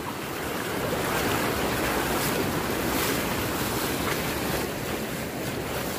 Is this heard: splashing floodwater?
yes